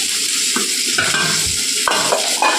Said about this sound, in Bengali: পেঁয়াজ পাঁচফোড়ন আর কাঁচা লঙ্কা ফোড়নে দিয়েছি